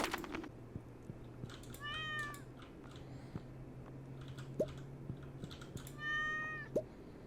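Cartoon cats meow in the farming video game Stardew Valley, two short bright meows a few seconds apart over a faint game backdrop with soft clicking.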